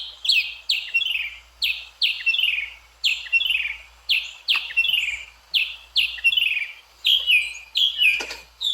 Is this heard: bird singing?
yes